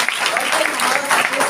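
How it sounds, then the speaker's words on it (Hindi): Audience applause for several women being honoured at a motivational talk, dense continuous clapping filling the short moment, loud and close with some voices mixed in. "इन सभी मैडमों के लिए हमारी तरफ से जोरदार तालियां होना चाहिए"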